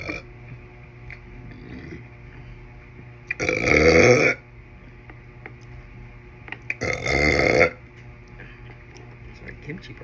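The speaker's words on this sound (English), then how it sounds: "Sorry, kimchi burps." Two loud, drawn-out burps after drinking kimchi juice during a meal, each about a second long and close to the microphone, separated by quiet room tone.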